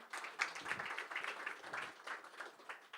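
Applause from a crowd at a press conference for an MMA fight night, a fairly faint, continuous patter of clapping with uneven bursts throughout.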